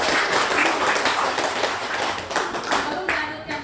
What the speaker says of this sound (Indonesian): Pada kelompok 3 dikasih aplaus.